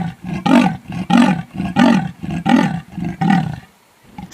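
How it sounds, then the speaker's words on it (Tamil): Leopard calling with a series of six harsh, rasping roars in a steady sawing rhythm, loud and close, each burst separated by a brief breath, ending in quiet. "சிறுத்தைங்க கத்துற சத்தத்தை கேக்குறீங்களா?"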